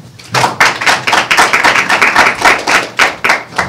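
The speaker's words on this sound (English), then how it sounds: "Ron, applause for Ron Forman." Rhythmic, loud clapping from a crowd, close and continuous, with a steady pulsing beat rather than scattered applause.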